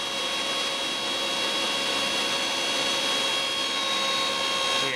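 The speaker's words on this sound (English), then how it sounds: "But the slightest load on this motor, it doesn't go over 200 hertz." Washing machine motor fitted with a pulley, run as an air raid siren effect, giving a steady loud whirring drone with a sustained high whine that holds evenly throughout.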